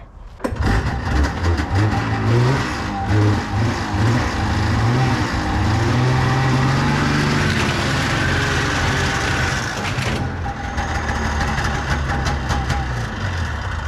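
A 1954 Plymouth Savoy engine running as the car drives up trailer ramps, a loud, close, rumbling low engine drone that rises and varies in pitch with throttle before easing off near the end, no speech.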